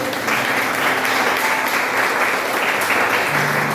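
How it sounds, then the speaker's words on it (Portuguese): A congregation at a church service held in a garage claps loudly and steadily in dense, sustained applause that fills the whole stretch without pause. "Você pode aplaudir o Senhor bem forte."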